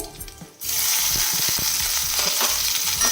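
Loud, steady sizzle of onions frying in hot oil with dried red chilies and curry leaves, bursting up abruptly as they are added and staying dense and crackly throughout, with no talking.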